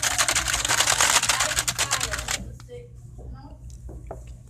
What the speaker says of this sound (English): We're typing perfectly.